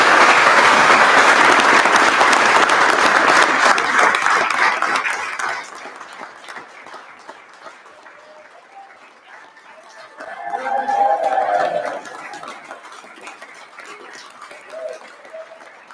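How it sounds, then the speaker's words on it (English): Audience at a county board meeting applauding, a loud burst of clapping that fades out after several seconds into quieter room sound with murmuring voices. "So we'll give one more round of applause"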